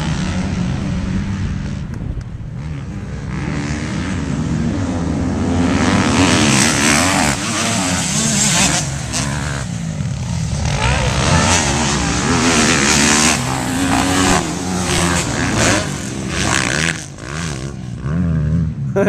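Motocross dirt bikes at a dusty outdoor track roar past in a long, loud stretch of revving, rising and falling as riders accelerate by, with no talking.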